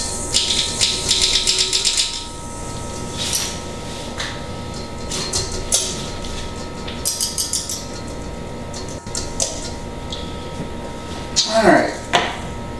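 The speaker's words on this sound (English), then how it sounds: "I'm going to go ahead and sift that through there" Half a teaspoon of salt is sifted with granulated sugar for chocolate chip cookie dough, making a steady metallic rattling and scraping close up. Several bursts of shaking are separated by brief pauses, and a clattering knock comes near the end.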